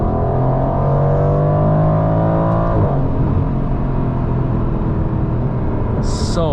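A 2021 Aston Martin Vantage Roadster engine revving hard under acceleration in Sport Plus mode, a loud rising tone that climbs, then drops sharply at a gear change before building again, heard from inside the car.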